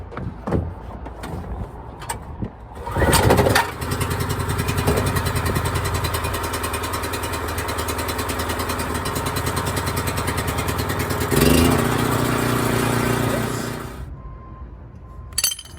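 A portable generator with a kill switch and two 20 amp outlets is pulled into life, then settles into a steady, close, fairly loud idle for about ten seconds before being shut down.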